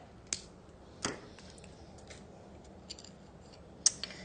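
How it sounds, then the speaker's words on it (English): Thin jewelry wire is snipped with cutters, giving a few sharp, quiet clicks spaced irregularly over a few seconds against a faint hiss, close up and with no talking. "So I've got 5 inches of wire, and we're just going to cut it."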